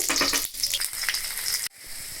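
Whole spices and a bay leaf sizzle and crackle in hot oil in a pan, a loud, dense frying hiss with stirring scrapes, broken by a brief pause and a sudden drop before the sizzle resumes steadily.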